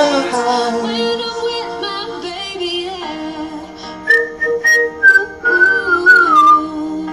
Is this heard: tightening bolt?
no